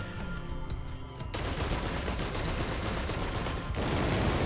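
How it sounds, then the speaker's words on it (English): Sticky bomb fired in the game Risk of Rain 2: a quieter tonal start gives way after about a second to a loud, dense burst of crackling, rapid-fire impacts that continues throughout and surges again near the end. "That's the sticky bomb. When we hold R to fire that thing."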